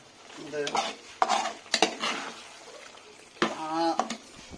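A beef chops mixture being stirred with pepper powder and curry leaves in a pan, heard as bursts of scraping and clattering utensil strokes with a faint sizzle underneath, while a voice comes and goes over it.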